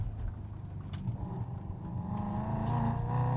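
A BMW E92 M3 in second gear through tight turns gives a steady, low engine drone heard from inside the car, with a slight rise in revs toward the end.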